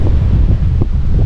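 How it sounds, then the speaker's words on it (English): Strong wind in a November storm buffets the microphone with a steady, loud low rumble and gusty roar, with no voices. "so windy."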